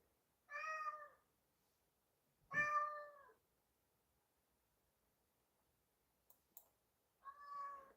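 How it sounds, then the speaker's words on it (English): A cat meows three separate times, each a clear drawn-out mew spaced a couple of seconds apart in a quiet room, with a couple of faint clicks between them. "Meow yourself, kitty."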